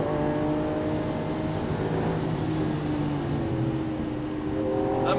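Lamborghini Aventador engine pulls steadily under acceleration, a continuous loud droning roar that holds for several seconds from inside the car, with no talk.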